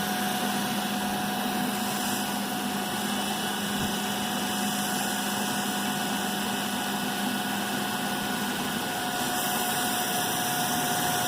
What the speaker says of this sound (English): Now we load the motor by changing the generator field.